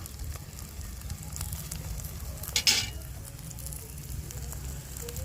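Egg and onion paratha sizzling in a frying pan, a steady quiet hiss and crackle with one brief louder scrape or flip partway through.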